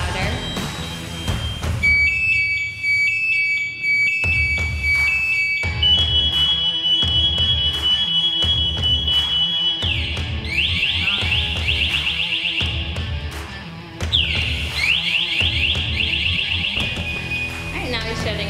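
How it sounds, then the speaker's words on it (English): A firefighter's motionless alarm, the personal distress unit that sounds when its wearer stands still, shrills in loud rising electronic sweeps and sustained tones, repeating steadily with a clattering, rhythmic background and brief voices. "that noise will alert the other firefighters that he has gone down"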